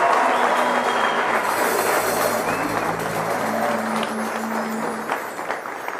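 Applause from a late-night talk show studio audience, a sustained dense roar of clapping that fades gradually, with faint voices underneath.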